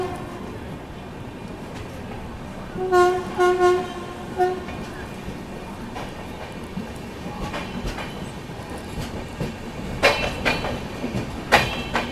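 The 12450 Goa Sampark Kranti Express pulls out of Surat railway station with a low rolling rumble and rattling wheels, a horn blast sounding partway through, and sharper clanks and clicks near the end.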